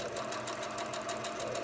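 A home sewing machine chain piecing quilt blocks for a Cathedral Windows block runs with a steady, continuous mechanical hum and rapid stitching rattle, close and moderately quiet, with no talking.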